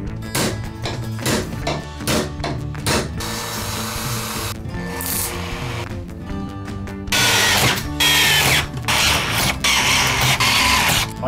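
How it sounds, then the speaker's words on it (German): Cordless drill boring four holes through board parts for a homemade electric offroad longboard, with repeated short bursts of whirring motor and a longer continuous drilling stretch, close and loud. "Ich werde jetzt erstmal die vier Löcher auch hier reinbohren"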